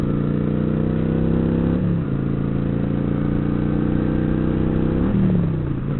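A Kawasaki Vulcan 900 Classic LT motorcycle engine cruising on the highway at high revs, a steady, buzzy drone with brief dips in pitch as gears or throttle change, loud and continuous with no talk.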